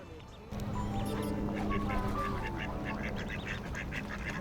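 Ducks and ducklings in the Peridot AR pet game let out a run of quacks and honks, several calls in quick succession over a constant hum, with a voice speaking at moments.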